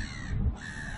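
A bird calls once on a seaside foreshore in Mandurah, where white cockatoos are about: a short, harsh, crow-like squawk, fairly close and clear over a steady outdoor hiss.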